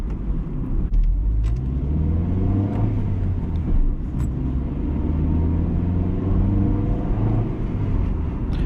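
A 1999 Honda Civic DX with a 5-speed manual drives along, its engine droning steadily from inside the cabin, the tone climbing and settling as it revs through the gears over a constant road rumble.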